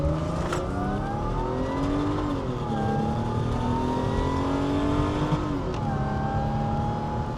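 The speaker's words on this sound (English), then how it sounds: "Nothing makes you grin quite like that supercharger whine." A supercharged Mercedes C32 AMG revs hard and close by, its engine note climbing and dropping in repeated sweeps with a tonal, whining edge layered over the deep exhaust rumble.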